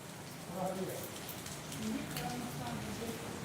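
Steady rain patters on a surface throughout, with people talking faintly in the background at a Ganesh aarti at a temple.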